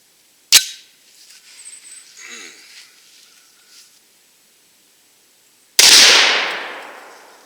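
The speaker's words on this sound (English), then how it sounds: "We're going to shoot it at 25 yards. First up is the Hornady 300 grain jacket of hollow point." Two Desert Eagle pistol shots with Hornady 300 grain jacketed hollow point rounds fired outdoors at a 25-yard range: a sharp crack, a quiet gap with faint rustling, then a second louder blast with a long ringing decay.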